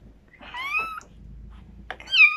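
A kitten meows twice, a longer rising-falling call and then a brighter one after a short pause, close and clear against a quiet background.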